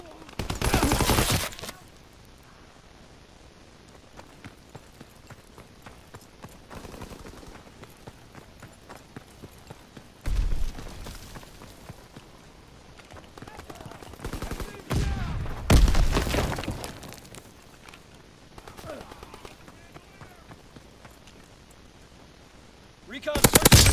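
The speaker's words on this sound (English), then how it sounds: "He's suppressing fire!" Distant rattling machine gun fire in a WW2 team deathmatch video game, a long faint stream of rapid shots under louder sudden blasts and crashes, with voices talking at moments.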